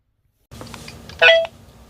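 Telephone dialing tone as a call is placed: one short, clear electronic beep rising out of a low, steady background hum.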